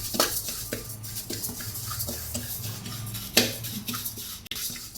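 Cumin seeds are dry-roasted in a pan for homemade curry masala powder, with a spoon scraping and tapping against the metal in an irregular rhythm, a louder clank midway and only a faint sizzle.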